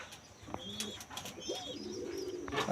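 Pigeons in a breeding loft give soft, low coos mixed with a few faint chirps, quiet and close, with no voices over them.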